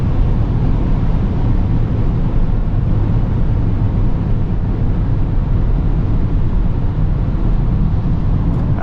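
Cabin of a Mercedes EQS 580 SUV running fast on the Autobahn: a loud, constant broadband roar of road and wind noise with no pauses.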